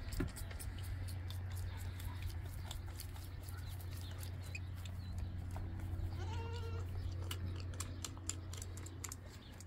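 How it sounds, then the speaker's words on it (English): Goats bleat on a farm, short calls rising over a steady low hum and scattered clatter, with a few brief cries audible near the middle. "Poor little goat."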